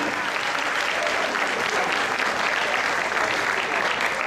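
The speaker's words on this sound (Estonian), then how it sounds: "Suur aplaus Maarjale" An audience at the LEP 2017 ball claps in a loud, dense, steady round of applause that runs unbroken throughout.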